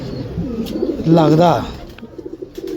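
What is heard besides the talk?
pigeons cooing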